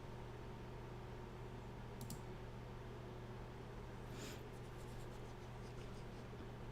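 Pen scratching across paper in the video game RUNT, a quiet steady scribble under a constant hum, with a couple of brief brighter strokes.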